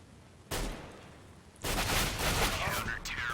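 Gunfire in CS:GO competitive play arrives as sharp bursts, one volley early and a denser rattling stretch after, close and loud, with a voice faintly mixed in.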